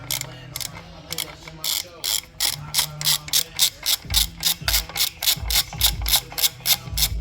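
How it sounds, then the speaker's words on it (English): Ratchet loosening a 16 mm bolt on a 2004 Saab 9-5 Aero wagon torque mount, with loud, close, rapid clicking bursts repeating in a steady back-and-forth rhythm and faint talk in the background. "go ahead and loosen that ratchet while I hold the bolt with this wrench on the other side"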